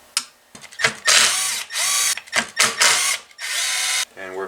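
A power driver runs in loud, close bursts as it backs screws out of a Stihl hedge trimmer's cutter bar, with short whirring spins and brief pauses between them.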